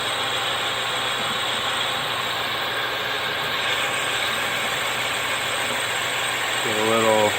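A lathe bores a home-cast aluminium cylinder with a steady, loud mechanical drone and a broad hiss of cutting that holds evenly throughout, with a brief tonal flutter near the end.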